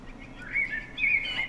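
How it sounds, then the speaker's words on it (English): Birdsong in the video game Lord of the Rings Online, a few bright chirping calls rising over a soft ambient background, fairly close and clear, with no talking. "You have a bunch of bird sounds when you use it."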